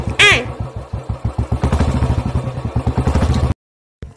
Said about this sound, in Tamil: நான் பைக் ஒதுக்கிட்டு வாரேன்